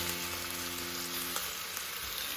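Pork tongue sizzles on a hot pan, giving a constant crackling hiss of frying close up, with a brief tonal hum fading early and no speech.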